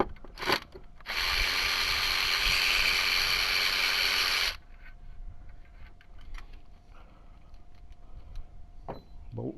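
A hand ratchet breaks loose an alternator mounting bolt on a car, giving a loud, steady run of close clicking for a few seconds, then quieter scattered clicks and shop noise.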